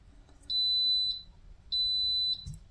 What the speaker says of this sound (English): when the timer goes off, which is going to be shortly